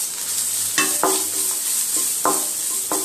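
Grated coconut and raisins fry in a pan with a steady sizzle, and a spoon knocks and scrapes through them in several separate strokes, close up and without speech.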